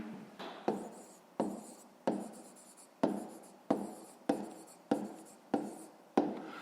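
Pen strokes on paper while a math solution for a fifth-grade exercise is written out, nine or so distinct scratchy bursts at a steady pace, each starting sharply and trailing off, close and clear with no voice.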